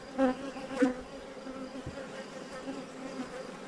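Honey bees at an open hive with drawn wax foundation frames hum in a steady, continuous drone, with a couple of louder buzzes as single bees pass close by, and no talking.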